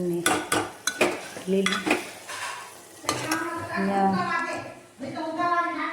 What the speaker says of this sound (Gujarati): મેં અત્યારે મસ્ત એવું તુવેરનું શાક વઘાર નાખ્યું છે